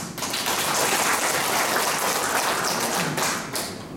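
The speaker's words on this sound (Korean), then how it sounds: "박수 한번." An audience claps during a lecture forum, giving a dense, sustained round of applause that fills the space, fairly loud and even, fading slightly at the end.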